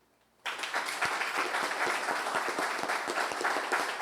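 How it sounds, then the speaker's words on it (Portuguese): A gathered audience at a Christian talk breaks into applause after brief quiet, a full, steady round of clapping that continues evenly to the end, heard from within the room. "eu peço uma salva de palmas para os nossos irmãos que estão na rua"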